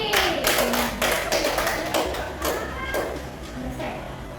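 Classroom pupils clapping for a classmate who answered correctly, a loose burst of close hand claps in uneven rhythm lasting a few seconds, with a voice speaking briefly among them.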